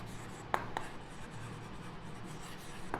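Faint pen strokes of handwriting on paper, a few soft scratchy taps and rubs at close range in a quiet room with no talking.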